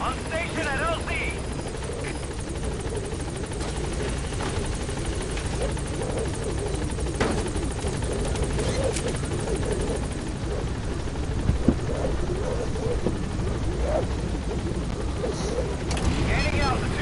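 In the Metal Gear Solid V game, the Pequod helicopter arrives at a landing zone with a steady rotor thrum. Faint birdcalls and occasional short clicks sit over the rotor.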